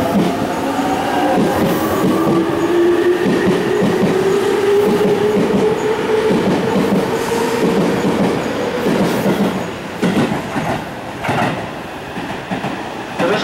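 A Tobu Skytree Line local train pulls into Takenotsuka station with a loud, steady rumble and a rising wheel squeal, then rhythmic clatter and thumps as it slows.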